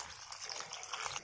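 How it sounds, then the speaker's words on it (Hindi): Water is poured into simmering chickpea (chole) gravy in a pot, a soft, steady watery rush that stays faint and continuous throughout. "ग्रेवी के हिसाब से हम पानी ऐड करेंगे।"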